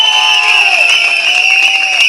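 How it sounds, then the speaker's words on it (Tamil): A packed crowd at a TVK political rally in Kolathur roars and cheers loudly and continuously, with shrill sustained shouts or whistles riding over the dense noise throughout. "ஒரு அரங்கம் நிறைந்த நீங்க கைத்தட்டல தந்தே ஆகணும்"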